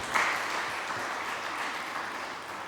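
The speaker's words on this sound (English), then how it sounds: "a big round of applause again for all those who presented." Audience applause for presenters at a youth entrepreneurship event in Gozo, steady and fairly full, continuing evenly throughout.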